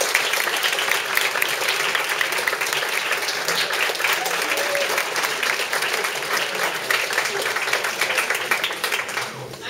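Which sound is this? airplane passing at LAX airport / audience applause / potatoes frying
audience applause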